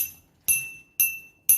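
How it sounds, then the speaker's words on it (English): A glass cup holding water, struck like a glass xylophone, gives four bright ringing clinks about half a second apart. Each strike is sharp and near, then rings down into silence before the next. "this glass cup with the least water"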